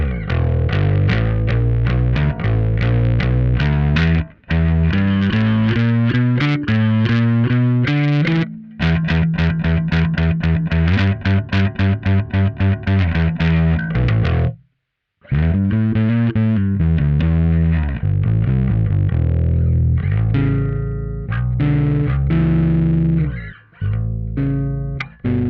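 Heavily distorted bass guitar plays a riff of gritty, buzzing notes with brief pauses, loud and upfront with no voices.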